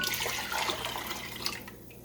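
Water poured into a container to combine with white vinegar for dill pickle brine, a steady close splashing stream that trails off near the end, heard alone without talk.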